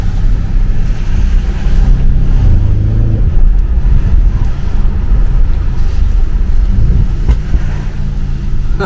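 Loud, close engine and exhaust roar from an Audi RS7 under hard acceleration, with rising and falling revs and sharp exhaust cracks at downshifts, heavy low rumble mixed with wind noise throughout.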